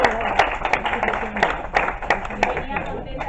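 Audience at a human rights writers' conference clapping in scattered, uneven bursts, a modest crowd applauding at close range for a few seconds.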